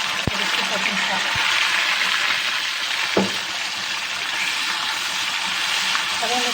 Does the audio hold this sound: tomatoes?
yes